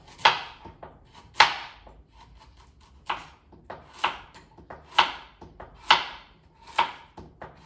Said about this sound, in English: So now you can start by peeling your vegetables, so peeling your carrots. We're gonna slice them in thin pieces.